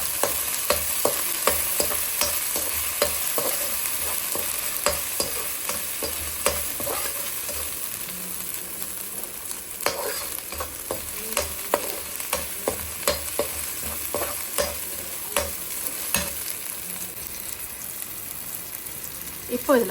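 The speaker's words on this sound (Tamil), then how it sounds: "இந்த இஞ்சி பூண்டோட பச்சை வாசனை நல்லா போகிற வரைக்கும் வறுத்துக்குவோம்." Ginger and garlic frying over a low flame while being stirred in a pan for a Chettinad chicken curry: a constant soft sizzle broken by frequent sharp ladle clicks and scrapes against the pan.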